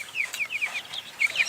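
Several chickens cluck in quick, repeated high calls, fairly close and steady, with no talking.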